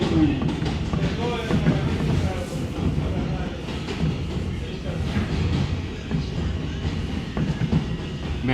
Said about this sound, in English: We're going to take a trip on the J train.